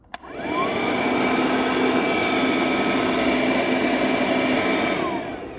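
An A-101 Piranha PVC-4005 handheld car vacuum cleaner switches on and runs with a loud, steady high-pitched whine and motor hum, then starts to wind down at the end.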